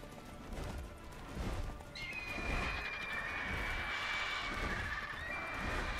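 Roach the horse in The Witcher III whinnies in a long, high neigh over the rumble of hoofbeats at a gallop, fairly faint beneath game ambience.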